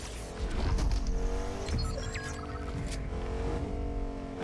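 A Cybertron cannon truck drives in Fortnite Zero Build, its engine a steady loud rumble with tire noise and brief squeals, plus scattered game effects throughout.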